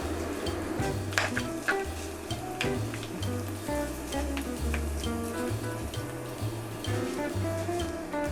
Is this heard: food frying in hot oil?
yes